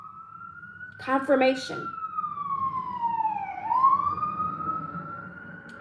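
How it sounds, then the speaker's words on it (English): An emergency vehicle siren wails in a long, rising and falling sweep, clear and moderately near, with a voice briefly speaking over it early on. "You hear the sirens."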